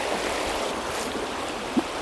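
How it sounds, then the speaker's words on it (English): A swollen river rushing over bubbly pocket water between deep little pools, a steady, close broadband wash of flowing water with one small splash near the end and no voices. "You can probably hear the river's picked up"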